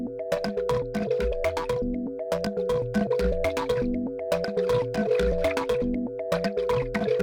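A synth line runs through the Shaper Box 3 plugin on a preset, giving a rhythmic, pulsing, chopped pattern of bright plucked tones over a sustained held note, steady and up front with no voices.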